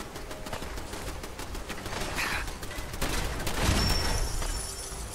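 Automated turret firing in Fallout 4, rapid rattling bursts of gunfire building to a louder stretch near the end, with no talk over it.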